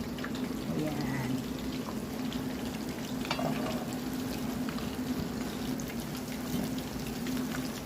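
Bonito fish frying in hot, splattering cooking oil in a pan, a steady loud sizzle with crackling pops throughout, while a person talks over it.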